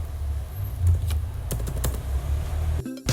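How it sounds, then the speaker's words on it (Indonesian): A computer keyboard's enter key is pressed, giving a few crisp, close clicks over a low, steady background hum, with a louder knock near the end. "Pencet enter aja buat mulai gamenya."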